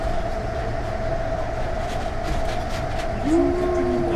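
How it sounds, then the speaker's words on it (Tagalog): A Hong Kong train speeds along with a continuous loud rumble and steady tonal hum, and a brief rising whine or horn-like tone near the end. "Ang bilis ng tren."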